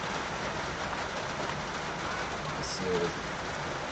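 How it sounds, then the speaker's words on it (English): Steady rain drums on a tin roof in a dense, even hiss with faint patter, continuous throughout and fairly distant. "Can you actually hear us above the rain? Because we're underneath a tin roof."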